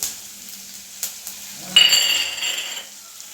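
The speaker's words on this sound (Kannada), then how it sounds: "ಇದೆಲ್ಲ ಫ್ರೈ ಆಗದೆ." Cumin, curry leaves and chillies sizzle in hot oil for a tempering, a steady crackling fry that rises sharply partway through with a burst of louder hissing and spattering, then settles back.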